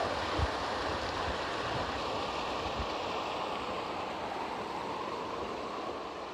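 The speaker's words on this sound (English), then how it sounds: "A little waterfall." Faint, steady splashing of a little waterfall stream at a woodland water crossing, continuous broadband rush with no voices.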